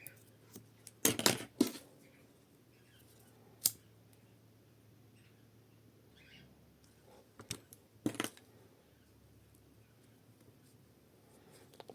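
Scissors snip crochet yarn while a crochet bag is being lined, giving a few sharp, close clicks and snips separated by quiet pauses.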